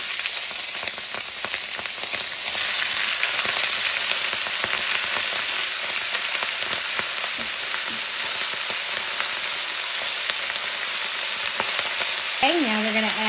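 Cabbage frying in hot bacon fat in a pan, a steady, close, dense sizzle and crackle that runs the whole time with occasional sharper pops and a brief scrape near the end, no voices.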